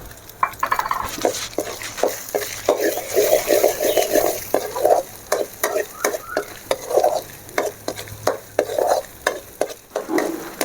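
Ginger pickle fries in oil in a pan on the stove, sizzling throughout while a spoon stirs and scrapes in a steady rhythm of close, distinct strokes, with no talking.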